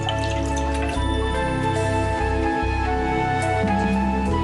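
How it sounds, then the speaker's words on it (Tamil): Water runs steadily into a cooking pot to set up a double boiler for melting chocolate, a continuous splashing pour with faint drips, heard alone throughout. "நம்ம வைக்க போகிற பாத்திரத்துக்கு தேவையான அளவு தண்ணி எடுத்துங்க"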